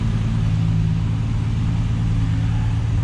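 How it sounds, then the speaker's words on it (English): A Java Green Triumph TR6 six-cylinder engine idles smoothly and steadily, a close, even low rumble with no misses and no voices over it. "Smooth, very smooth TR6 engine."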